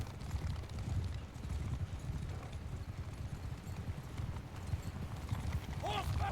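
Cavalry horses in the video game Mount & Blade II: Bannerlord move in a steady, dense clatter of hooves over a battlefield, with a short whinny near the end and voices shouting over them.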